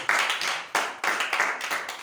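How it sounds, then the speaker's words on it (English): A church congregation claps in rhythmic bursts, several quick rounds of hand claps filling the room at close range with no voices over them. "You want to clap unto the Lord."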